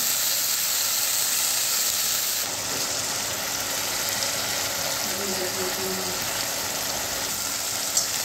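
Ginger and garlic paste sizzles in hot oil with fried onions for a home-style fish curry, a steady broad hiss close by, with a faint brief clink near the end.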